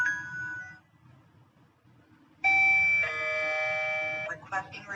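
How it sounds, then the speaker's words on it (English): A Hutlon A19 Tuya Wi-Fi smart lock plays its doorbell chime, a series of bright electronic tones ringing out clearly and close, after a brief earlier beep and some quiet low background noise. "Press the doorbell ring."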